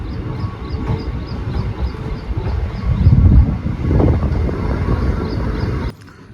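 The Chikkamagaluru–Yesvantpur Express pulling away from Bisluhalli station, a loud low rumble of wheels and carriage noise that swells midway, with faint repeated higher tones above, then cuts off abruptly near the end; no voices.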